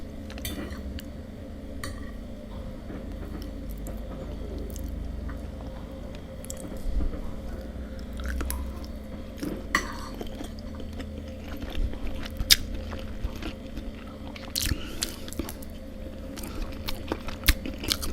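Someone eats Harry Ramsden's cod and chips close up, with soft chewing, occasional cutlery clinks and scrapes over a steady background hum.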